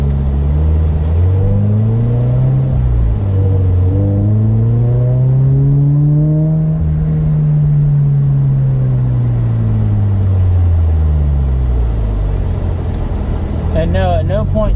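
Toyota AE86 Corolla, apparently fitted with a V6, revving loudly while driving, its engine note sweeping up and falling back in long, continuous rises across the whole stretch.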